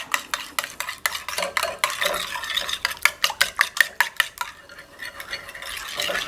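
Eggs for a cha-om omelette are beaten briskly in a bowl, giving rapid, rhythmic clinks of a utensil against the bowl's sides, close and clear. The strokes come in quick runs with a short lull before resuming.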